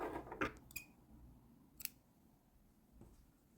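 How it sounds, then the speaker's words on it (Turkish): Scissors snipping crochet yarn after finishing a granny-square round for a bamboo-handled bag: a few sharp, close clicks and snips spread across a quiet background, with no voices. "Hemen burada sıramı kapatıp bir zincirimi çekip ipimi kesiyorum."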